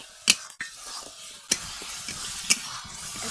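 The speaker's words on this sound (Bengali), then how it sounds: "এখন আমি এটা ভালো করে কষিয়ে নেব" Spices with turmeric, chili and salt are stir-fried in a pan over a clay stove in a village kitchen. Close, steady sizzling runs throughout, broken by a few sharp scraping strokes of the spoon against the pan.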